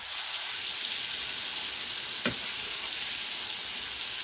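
Vegetables frying in a pan for a vegetable paella with grated tomato, a loud continuous hiss and sizzle close by, with one brief scrape of stirring midway and no talk.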